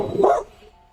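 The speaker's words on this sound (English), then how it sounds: "Sorry about my dogs, guys." Dogs barking indoors, one short sharp bark that fades quickly, fairly close and alone.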